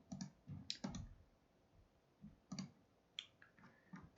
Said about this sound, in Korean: ESC 키가 아닌 엔터 키를 눌러서